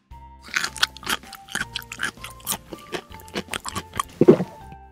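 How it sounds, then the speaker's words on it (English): Someone bites into a crunchy apple and chews it in a string of sharp, close crunches that come in quick uneven bursts, ending with a louder, juicy snap, with no talk. "And it also has a juicy snap when you bite into it."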